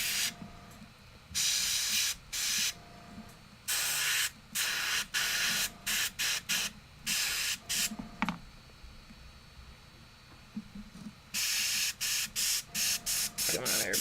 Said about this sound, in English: Come on, airbrush, I believe in you.